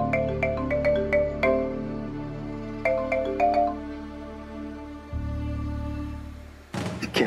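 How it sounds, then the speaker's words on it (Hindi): A phone rings out repeatedly while a call is placed, a bright melodic ringtone in clustered bursts over a low steady tone, then a pause and a sudden louder burst at the end. "एक बार और फोन ट्राई करती हूँ।"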